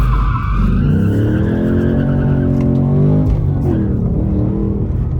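Ford Mustang Dark Horse doing a handbrake drift, with a loud, close tire squeal and skid layered over a rumbling, revving engine that keeps going for several seconds.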